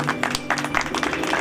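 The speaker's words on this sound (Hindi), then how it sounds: "एक बार जोरदार तालियां" Applause from an audience at a devotional jagran event, a brief burst of dense, steady clapping from many hands, fairly loud and continuous.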